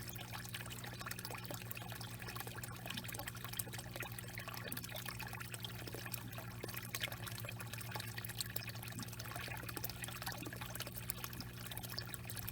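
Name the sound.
siphoning pond water into buckets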